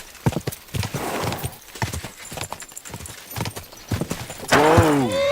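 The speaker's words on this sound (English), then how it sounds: "It's like a bloody expensive horse." A horse in the video game Kingdom Come: Deliverance II gallops with a rapid, loud clip-clop of hooves, then gives a sharp, drawn-out neigh near the end.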